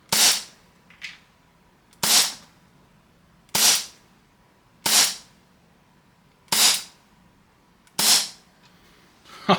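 A Novritsch SSP5 Hi-Capa airsoft pistol fires six sharp, loud cracks at an even pace about one and a half seconds apart, close up, with faint clicks between the shots.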